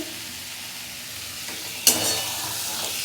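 Spinach goes into a hot pan, bringing a sudden burst of sizzling and stirring partway through that stays at a steady hiss over faint background noise; no one speaks.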